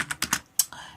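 Keys on a computer keyboard are typed in a quick burst of about five sharp clicks, close and clear, with no talking.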